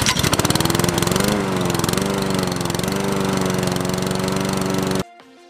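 A vintage Kenner M.A.S.K. Iguana toy's buzzsaw lowered toward the ground makes a loud, close, motorized whirring buzz that starts choppy, settles into a steady droning hum for about five seconds, then cuts off abruptly.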